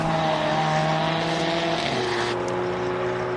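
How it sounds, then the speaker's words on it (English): A Hyundai race car at a hill climb drones loudly and steadily nearby, its engine note shifting pitch partway through, with a brief sharp burst near the end. "I think that's the Hyundai"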